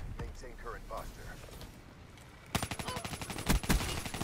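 Rapid bursts of Kuda submachine gun fire in Black Ops 3 take over in the second half, loud and close, after a stretch of game sounds and a faint voice.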